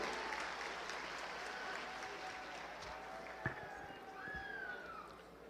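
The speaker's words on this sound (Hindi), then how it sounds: "जोरदार तालियां उनके लिए होनी चाहिए।" A crowd applauds at an outdoor foundation-stone ceremony for a bridge over the Son river. Steady, fairly distant clapping forms a continuous wash, with faint crowd murmur and one brief sharp knock partway through.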